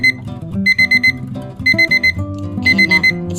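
A kitchen timer set for three minutes goes off while pork binagoongan cooks, beeping loudly and close in quick repeated bursts of several electronic tones, with short pauses between the groups.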